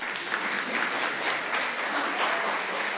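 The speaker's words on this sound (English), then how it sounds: "give yourselves a round of applause" Applause from a summit audience fills the room, steady and dense throughout, a crowd clapping together with no gaps.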